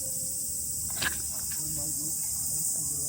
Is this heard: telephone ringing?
no